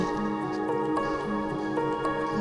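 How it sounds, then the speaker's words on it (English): A pot of water bubbling over a fire gives off soft, irregular popping drips, heard close under sustained musical tones. "The water began to bubble merrily"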